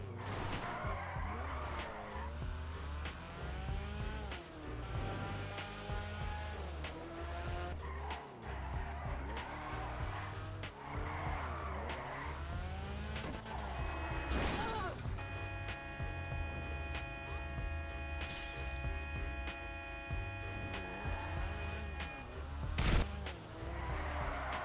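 Tires skidding and an engine revving as a car drifts in GTA 5, a steady game-audio roar with squealing sweeps, while a voice talks over it throughout.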